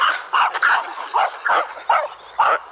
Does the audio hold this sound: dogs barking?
yes